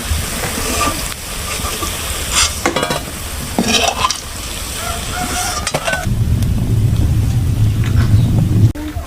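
Semolina balls fry in hot oil for laddu, a loud close sizzle broken by clattering stirring and scraping early on, then settling into a fuller, steadier bubbling fry.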